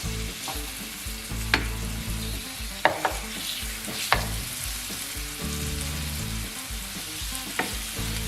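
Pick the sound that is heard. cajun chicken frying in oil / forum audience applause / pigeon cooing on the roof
cajun chicken frying in oil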